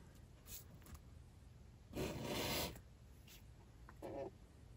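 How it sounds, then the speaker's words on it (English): Painted surface being sanded by hand with 1500 grit sandpaper wrapped flat, heard as soft close rubbing strokes: a few short scrapes, then one longer, louder pass and a final brief stroke, with no talk. "I'm using 1500 grit sandpaper. And we'll wrap this around like that, set that flat side down, and then sand just like that."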